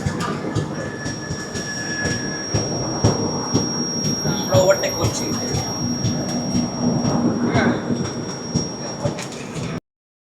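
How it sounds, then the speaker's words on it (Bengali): The Capital Express train rumbles past nearby, overtaking, with rhythmic wheel clatter and a faint steady high whine, continuous for several seconds, with some voices in the background. "ট্রেন আমাদের ওভারটেক করছে ক্যাপিটাল এক্সপ্রেস।"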